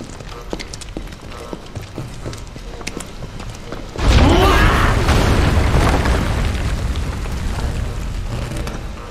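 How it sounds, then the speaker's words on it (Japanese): A sudden loud explosion erupts in the video game Final Fantasy VII Remake, a booming blast that rolls into a long, heavy rumble after lighter scattered impacts. "爆発止まらねえな。"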